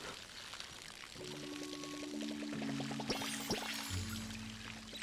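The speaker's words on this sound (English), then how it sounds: "Forgot to water my plants." Plants being watered in the life-sim game Palia, a soft trickling pour with faint tonal game chimes layered over it, quiet and steady for several seconds.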